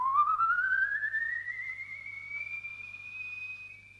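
A dolphin gives a single long, rising whistle that climbs steadily in pitch and then levels off into a sustained tone, fairly loud and alone with no talk.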